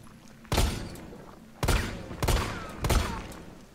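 Four heavy gunshots, likely from a pistol, ring out in Resident Evil 3 Remake, spaced irregularly over a few seconds, each a loud close blast with a booming, reverberant tail against a quiet background.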